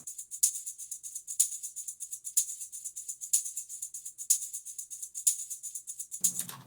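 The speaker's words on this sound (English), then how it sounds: "I just added a tambourine on it," A tambourine layered over the drums in a DJ remix jingles in a regular beat, with brighter accented shakes about once a second and lighter hits between, then a low tone enters at the end.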